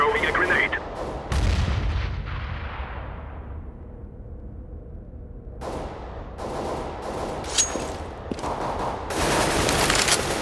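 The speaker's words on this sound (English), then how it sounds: "I'm throwing a grenade." In Counter-Strike on the Train map, on the terrorist side, a heavy blast booms with a long fading tail, followed by bursts of gunfire and sharp shots.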